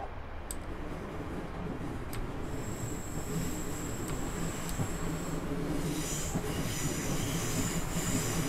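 A Class 466 train in Train Simulator 2014 rolls toward a platform on the Ryde Pier Head to Shanklin route, wheels rumbling steadily while high brake squeals ring out and grow busier toward the end.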